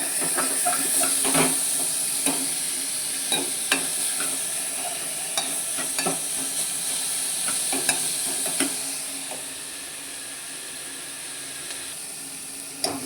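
Onions sizzle steadily in a hot pan, a constant frying hiss broken by occasional sharp pops and crackles, with no talking.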